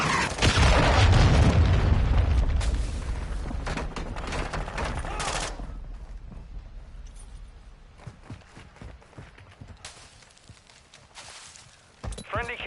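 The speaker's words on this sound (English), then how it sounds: "Hostile cruise missile incoming." Loud, dense explosions and booming gunfire from a cruise missile strike in Modern Warfare 2, heaviest in the first few seconds then fading into scattered shots and impacts, with game voices under the chaos.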